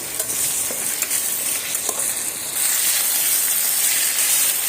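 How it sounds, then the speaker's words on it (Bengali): Diced potatoes stir-fried with ginger, garlic and spices in a pan give a loud, continuous hissing sizzle, with occasional scrapes of a spatula, the frying growing steadier and brighter midway; no voices. "এইভাবে সমস্ত মশলার সঙ্গে একটু সময় নিয়ে কষিয়ে নিতে হবে"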